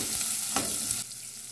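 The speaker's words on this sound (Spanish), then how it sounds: "Voy a poner el chorizo. Vamos a mover poquito." Chorizo frying in a clay cazuela for a red salsa, a loud close sizzle with a brief scrape of stirring midway, the hiss dropping slightly near the end, no speech.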